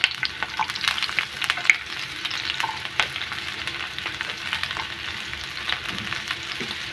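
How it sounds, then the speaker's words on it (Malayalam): Chopped small onions fry in hot oil for an eggplant stir-fry, giving a steady, dense sizzle with crackling pops and occasional stirring noises close by, with no talking. "എണ്ണയിൽ നമ്മൾ അരിഞ്ഞു വെച്ച ചെറിയ ഉള്ളി ഇട്ട് കൊടുക്കാം."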